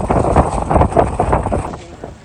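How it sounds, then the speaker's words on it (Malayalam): Strong wind roars and buffets the microphone in a loud, continuous rush that eases slightly toward the end, on the rocks at Thangalpara, Vagamon. "കാറ്റ് ശക്തമായി വീശിക്കൊണ്ടിരിക്കുകയാണ്"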